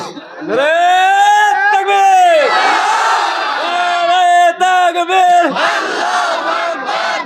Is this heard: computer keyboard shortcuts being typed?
no